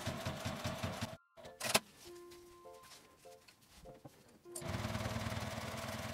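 A home sewing machine runs in short bursts, stitching fabric for a wall pocket with quick start-stop whirring; it fades out in a gap near the middle and returns as a steady close hum toward the end.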